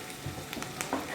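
Barramundi fish with garlic and onion frying in a pan, a close continuous sizzle with scattered crackles and pops and a brief stirring scrape, with no talk.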